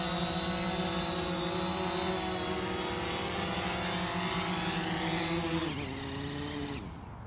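Steady whirring propeller hum of a DJI Phantom 4 drone coming in to land, continuous and fairly close, dipping in pitch near the end as it touches down and cuts off.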